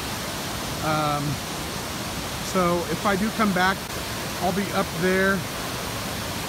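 A waterfall on a Kansas fishing trip, a steady broad rushing roar filling the whole clip, with someone talking over it close by.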